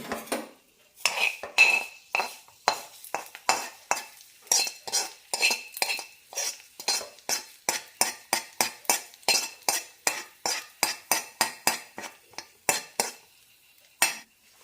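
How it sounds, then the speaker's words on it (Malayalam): A spoon stirs carrot chutney tempered with mustard seeds, curry leaves and red chilli in a bowl, making a fast, steady run of close, sharp scraping clinks for most of the stretch, with no talking. "നന്നായി മിക്സ് ചെയ്യാം"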